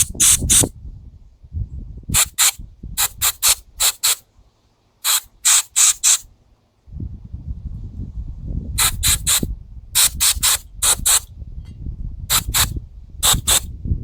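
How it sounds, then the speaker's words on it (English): Short bursts of aerosol spray blasting up the middle of a Tecumseh Snow King carburetor during a rebuild, several sharp hisses in quick clusters with pauses, close and loud over a low handling rumble. "Now we'll spray up the middle of it."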